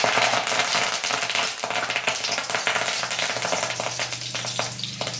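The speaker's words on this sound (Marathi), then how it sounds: "फडफड टाके फुटत आहे." Tempering spices crackle and spit in hot oil, a dense, loud, continuous sizzle with rapid popping throughout, close and without talk.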